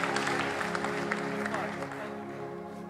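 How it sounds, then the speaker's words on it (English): Church congregation clapping in praise at a Resurrection Sunday service, a full mass of hand claps over sustained music and a voice, gradually easing off toward the end. "Give Him a clap offering of praise as you take your seats today."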